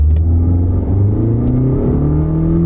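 A 2-liter Toyota Corolla engine pulls hard under full throttle on a drag-strip style launch, a loud, steady mid-pitched drone that climbs smoothly in pitch with no talking over it.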